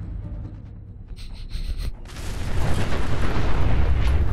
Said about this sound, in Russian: А, взрыв уже произошел.